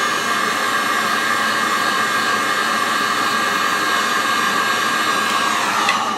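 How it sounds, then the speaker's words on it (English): A heat gun blows steadily over a votive candle with a loud, constant, close rushing whir that holds level throughout, without any speech. "And then we just run the heat gun over the candle."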